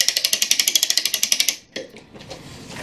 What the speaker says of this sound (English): Wind it up so we can put the clamp on it.